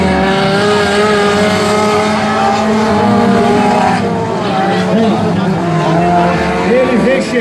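Race car engines of a light-category field roar continuously on a dirt racetrack at Jacaraípe, loud and sustained with shifting pitch as cars pass, while a commentator talks over them.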